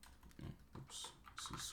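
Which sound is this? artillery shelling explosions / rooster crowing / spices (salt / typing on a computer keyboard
typing on a computer keyboard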